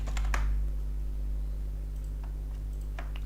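Scattered keystrokes on a computer keyboard click faintly in a few quick bursts over a steady low electrical hum, with no talking.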